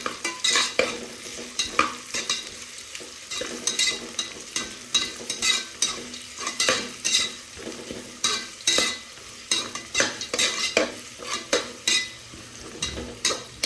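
Chopped onions frying in a pan for rajma masala, a continuous sizzle broken by repeated scraping stirs of a utensil, regular strokes every second or so, close and alone without speech.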